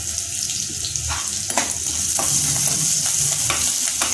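Garlic fries in hot oil in a pan, giving a steady close sizzle throughout, with a few soft stirring scrapes and no one speaking.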